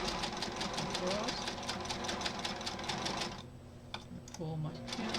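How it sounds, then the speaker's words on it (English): Home sewing machine stitching quilt block fabric along a marked seam line, a fast, even run of mechanical needle clicks up close that stops partway, followed by quiet handling clatter while someone talks. "because I'm sewing on the line"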